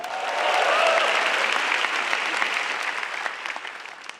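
Loud, full applause from a packed comedy show audience at Balai Sarbini swells quickly and stays dense, many hands clapping at once before easing off slightly at the close.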